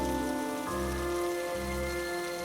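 Heavy rain falls at night in a steady, even hiss, with a sustained tonal hum running beneath it and no voices.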